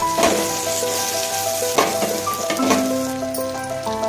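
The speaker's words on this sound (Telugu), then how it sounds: "ఇప్పుడు ఇందులోకి కొంచెం పసుపు, అల్లం వెల్లుల్లి, కరివేపాకు వేసి కలుపుకొని" Turmeric, ginger-garlic paste and curry leaves fry in oil for tomato pulao, giving a constant crackling sizzle with a few stirring scrapes and faint musical tones behind.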